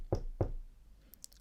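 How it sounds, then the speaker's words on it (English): Two firm knocks on a wooden door, spaced about a third of a second apart, loud and close against a quiet background, used as an audiobook sound effect. "He was finishing the food when there was a knock at the door."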